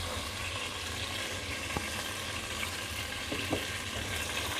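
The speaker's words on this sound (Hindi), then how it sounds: "चिकन को फ्राई करने के बाद अब हम इसमें डाल देंगे गाजर" Chicken and carrots frying in a pan, a continuous moderate sizzle with a couple of sharp clinks and scrapes from stirring.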